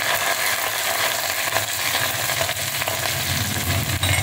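Curry leaves, ginger and green chilli frying in a pan give a steady, close sizzle with crackling texture that runs unbroken throughout, with no talking.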